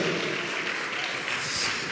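Church congregation applauding, a dense steady wash of clapping filling the whole stretch, with faint voices mixed beneath.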